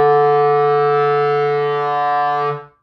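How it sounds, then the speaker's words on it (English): Lowest note of a soprano clarinet, one steady low tone held for about two and a half seconds with rich, evenly spaced overtones, played alone and close, then cut off cleanly. "so that is the lowest note on the soprano clarinet"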